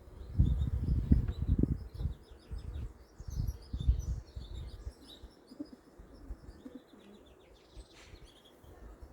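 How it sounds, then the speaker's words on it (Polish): Honeybees buzz and hum nearby in irregular bursts around a hive, louder at first and fading later, with faint bird chirps in the background. "Oczywiście tutaj są pszczoły lotne"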